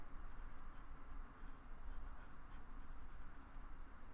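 Pencil strokes scratching steadily across paper while fingers are sketched onto a figure, a continuous close, soft scraping texture with no voices.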